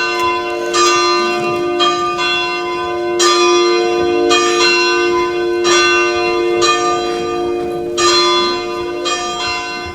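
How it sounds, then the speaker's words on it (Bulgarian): Church bells across a kingdom ring in a steady, repeated peal, each loud resonant strike overlapping a sustained ringing hum, with no voices. "Да ударят всички камбани в кралството и да известят нашата сватба."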